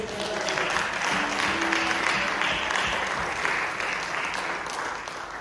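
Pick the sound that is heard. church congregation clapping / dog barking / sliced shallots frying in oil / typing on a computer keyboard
church congregation clapping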